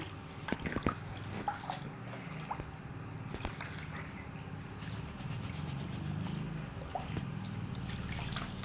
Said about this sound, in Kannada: ನೋಡಿ ಈ ರೀತಿ ಮೂರು ನಾಲ್ಕು ಸಲ ನೀರು ಚೇಂಜ್ ಮಾಡಿಬಿಟ್ಟು ಅಕ್ಕಿನ ತೊಳಿಬೇಕು